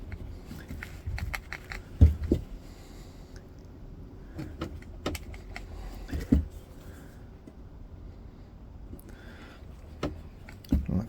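A knife cuts into wood on a beginner's bushcraft project. Sparse, close scraping and sharp cutting taps come at irregular intervals, with a few louder knocks and quiet gaps between them.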